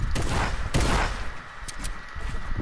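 Gunfire from a sniper rifle in Fortnite cracks out in loud, close bursts, several sharp reports crowding together in under three seconds before tapering off.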